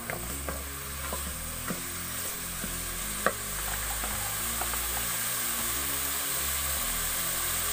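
Green onion and tomato sabzi is being stirred in a hot pan, with a steady close sizzle of frying throughout and occasional scrapes and clinks of the spoon against the pan.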